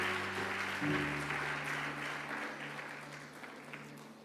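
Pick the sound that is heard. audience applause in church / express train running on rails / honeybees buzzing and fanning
audience applause in church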